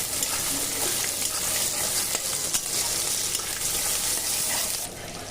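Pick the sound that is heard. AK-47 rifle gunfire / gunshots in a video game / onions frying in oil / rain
onions frying in oil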